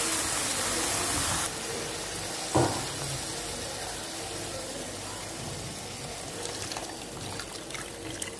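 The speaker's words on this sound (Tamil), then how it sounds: "இப்போ கொஞ்சம் தண்ணி ஊற்றி நல்லா நம்ம கிரேவி பதத்துக்கு நம்ம இப்போ கலந்துடலாம்" Water goes into a pan of egg and potato gravy. Broadband hiss and trickle run for about a second and a half, then a soft splash, and the mixture simmers quietly.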